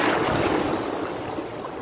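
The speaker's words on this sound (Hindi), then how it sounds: "ये एक बड़ी लहर आ रही है।" A big ocean wave rolls in at Turtle Beach in Karachi, a close, loud whooshing surge of water that swells and then slowly eases over a couple of seconds, with no talk over it.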